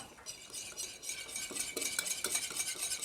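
Egg yolks being whisked with milk into a smooth batter for Japanese pancakes, heard as quiet, rapid rhythmic clinks and swishes of a whisk against a bowl, close and alone.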